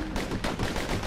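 Rapid slinger pistol gunfire in the video game Bastion, a quick run of sharp close shots in an uneven burst with no voices.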